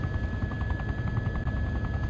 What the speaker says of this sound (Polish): Helikopter poleciał gdzieś w tamtą stronę.